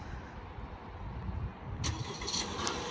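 A 2023 Honda Civic LX sedan starts up by remote, the engine catching about two-thirds of the way in and settling into a low, even idle after a stretch of quiet background hum.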